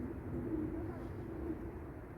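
Racing pigeons at a loft, faint low cooing heard twice against a steady background murmur.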